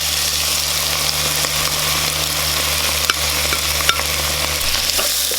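Pork and sugar mixture stir-fries in a pan for a Thai pork-stuffed tapioca pearl filling, giving a steady loud sizzle with occasional soft scrapes of stirring and no talking.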